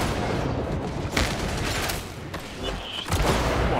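Gunfire in the sci-fi shooter Warhammer 40,000: Darktide, with a sniper firing amid a dense, loud battle: repeated booming shots and bursts overlap into a continuous roar, with sharper cracks standing out near the middle and end.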